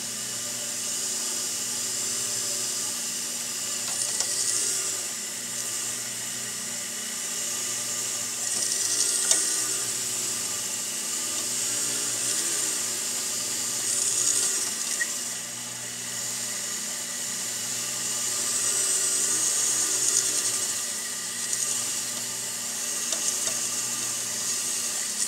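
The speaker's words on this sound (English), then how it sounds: "I grab a little bit, put it on my wheel, and then polish my piece here." Steady whirring of a buffing wheel polishing a small piece with polishing compound, a continuous motor hum with brief rising swells of friction as the piece is pressed against the wheel, no talking.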